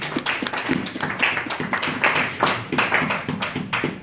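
A church congregation applauds together in steady, rapid clapping that stays loud and close, with a few faint voices mixed in beneath the hands.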